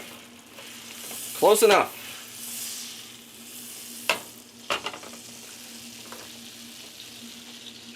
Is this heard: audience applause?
no